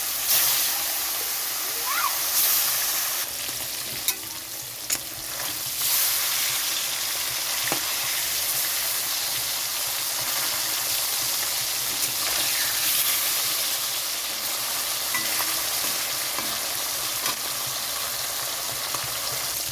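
Hilsa fish frying in hot mustard oil, a loud, dense hissing sizzle that fills the whole stretch, close by, with a few scrapes of a utensil over it.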